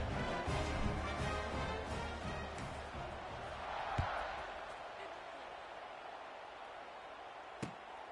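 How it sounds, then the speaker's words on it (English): A stadium crowd in the College Football 26 video game roars steadily through a kickoff, loud and sustained, with a couple of sharp thuds cutting through the din. "this crowd is feeling themselves after that last drive"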